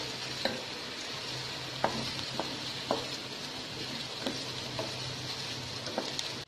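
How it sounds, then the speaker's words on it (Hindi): Carrots and capsicum frying in a pan, an even close sizzle with occasional sharp spatula clicks and scrapes spaced through it, no voices. "सबसे पहले मैं गाजर और शिमला अच्छे से फ्राई करूंगी"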